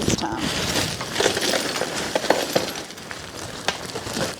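Ice cubes tumble into a container of potatoes being prepared for freezing, a scatter of hard clinks and rattles over a busy kitchen background.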